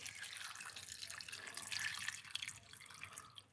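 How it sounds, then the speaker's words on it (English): Faint hissing trickle of water pouring into a container, steady for a few seconds and then tapering off. "I got some more hot water. Just pour upon it."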